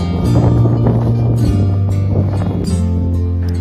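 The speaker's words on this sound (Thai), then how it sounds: "ลมแรงนะครับ" Strong stormy wind gusting across a reservoir at night during a fishing trip, a loud continuous roar with a steady low rumble and no speech.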